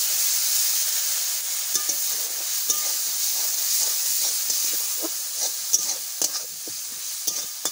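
A steady sizzling hiss with scattered crackles comes from frying masala in a pan after a splash of water, for egg curry, close and continuous with no talking.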